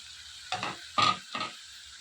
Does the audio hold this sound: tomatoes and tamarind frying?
yes